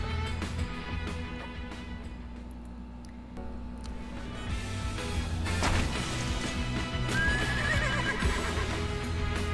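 Stallions in a dusty horse-racing arena in Another Eidos of Dragon Vein R neigh and whinny over a steady, dense clatter of hooves and game music. A high neigh rises near the end.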